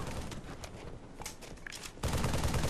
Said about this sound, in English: switch to my assault rifle and just shoot him down